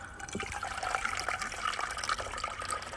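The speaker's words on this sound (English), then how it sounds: "let's go ahead and fill another pot up just for some coffee" Filtered water runs into a pot for coffee outdoors on a homestead during a power outage, a steady close trickling and splashing stream that continues throughout with no talking.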